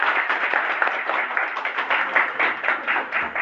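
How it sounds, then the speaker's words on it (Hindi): Scattered audience clapping in a small gathering, steady and moderately loud for a few seconds, uneven hand claps blending into a loose, continuous patter. "आज इतना बढ़िया भाई के लिए जोरदार तालियां।"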